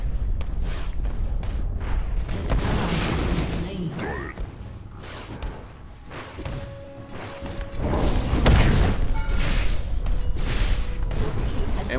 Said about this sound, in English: And we take down the turret.